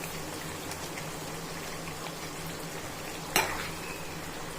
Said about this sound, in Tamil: நல்லா கொதிச்சுட்டு இருக்கு